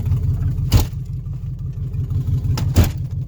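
An old Jeep truck engine runs steadily with a low, throbbing idle, close and continuous, broken by two brief sharp bursts of noise; no talking.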